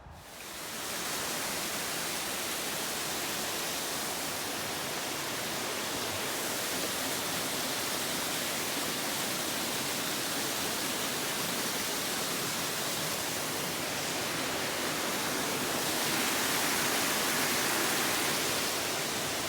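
A waterfall pours steadily on a moorland footpath near Thirlmere in the Lake District, a dense, even roar of falling water close by, unbroken throughout with no voices.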